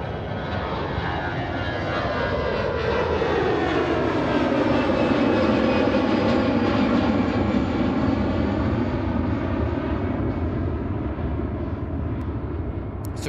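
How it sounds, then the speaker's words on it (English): A Boeing 757 roars through its takeoff run on runway 28 right at Fort Lauderdale, a loud, continuous jet-engine rumble with a slowly sweeping tone that swells and then holds steady. "Look at that dark smoke, 757. Big engine."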